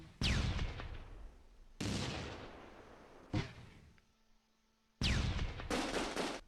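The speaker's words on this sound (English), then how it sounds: "so here come the mortars" Mortar rounds land in the WWII strategy game Close Combat II, four loud booming blasts spaced about a second apart, each with a decaying rumble and no talk over them.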